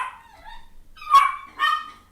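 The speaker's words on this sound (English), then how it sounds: "The dogs are going to be barking." Dogs bark indoors, a faint whine followed by two sharp, nearby barks spaced about half a second apart.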